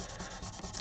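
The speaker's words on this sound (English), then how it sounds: "I'm wearing out this piece of sandpaper." Short, brisk back-and-forth rubbing of 600 grit Gator sandpaper being worn down on a surface, close and soft, with no talk.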